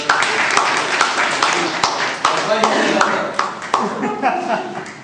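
An audience at a club meeting breaks into applause, a dense wash of many hands clapping at once with sharper individual claps standing out, loud and sustained.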